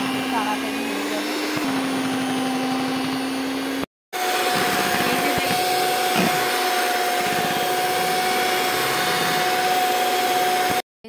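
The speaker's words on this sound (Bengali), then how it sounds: "তাহলে এরকম ইলেকট্রিক গ্রেটার দিয়ে এটাকে গ্রেট করে নিয়ে এরকম ক্রিমি ভাব চলে আসবে।" An electric beater whips a homemade ice cream mixture with a loud, continuous motor whine that shifts pitch as the load changes, cutting out briefly twice, while a voice speaks over it.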